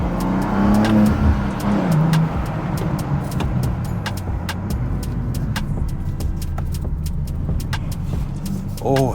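A BMW M2 G87 accelerates hard along a winding mountain road in the Balkans, its engine note loud and close, rising through the gears with crisp, rapid shift clicks across the whole stretch.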